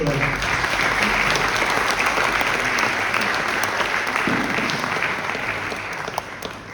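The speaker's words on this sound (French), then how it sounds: "je voudrais d'abord peut-être qu'on applaudisse monsieur le maire" An audience at the Cercle National des Armées gives the mayor a sustained, dense round of applause that stays loud throughout and eases off slightly near the end.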